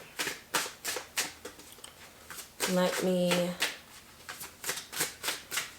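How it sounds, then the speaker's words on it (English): A quick, close shuffle of a new tarot deck, a rapid rustling riffle of cards, with a person talking briefly before and after. "shuffle really quickly. This is a new deck."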